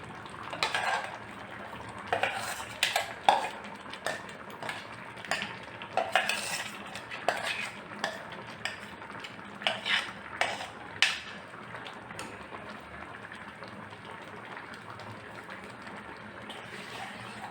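A spoon scraping ground masala into a pot for jackfruit sambar, a run of quick metallic clinks and scrapes for about eleven seconds, then a quieter, softer stirring, close with no voices.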